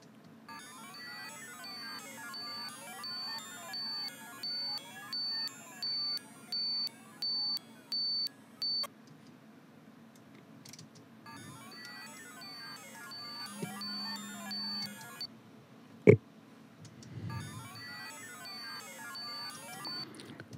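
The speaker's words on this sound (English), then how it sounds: "I'm pretty sure we are now going to have that beeping sound on both the left and right speaker." Test beeps from a neurofunk track review setup, a run of short, evenly spaced electronic tones, then a pause and more beep bursts, faint and with no talk.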